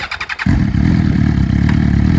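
A used 2007 Suzuki GSX-R1000 superbike fires up after a few faint clicks, settling into a loud, close, steady idle with a slight rumble.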